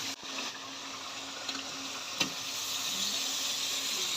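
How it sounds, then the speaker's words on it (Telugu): Ginger-garlic paste hits hot oil with whole spices and green chillies in a large pot, a steady bright sizzle running throughout with a couple of sharp spatters and a brief dip as it goes in. "ఇప్పుడు 1 కిలో అల్లం ఎల్లిగడ్డ వేస్తున్నా"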